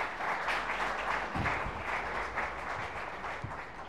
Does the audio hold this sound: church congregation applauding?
yes